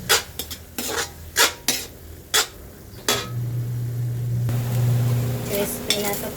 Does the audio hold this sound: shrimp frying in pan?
yes